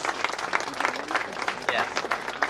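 Audience at a ceremony handing over oryxes applauds, a steady, moderately loud patter of many hands clapping throughout, with some crowd noise mixed in.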